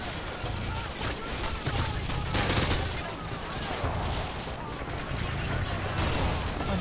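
Rapid, dense gunfire in Call of Duty Modern Warfare 2, with sustained bursts and overlapping shots over a busy battle backdrop and a voice talking through it.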